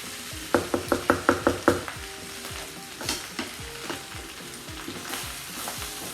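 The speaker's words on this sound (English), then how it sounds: "Just keep frying it at this point so you can get some of the moisture out" Chicken fried rice sizzles steadily in a pan while a utensil stirs it, with a quick run of sharp knocks early on and scattered scraping taps after, close up and with no voices.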